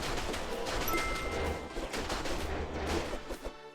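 Monsters burst apart under rapid attacks in Diablo II Resurrected, a dense barrage of loud overlapping impact crunches and explosive pops in quick succession, continuous and close, with no talking.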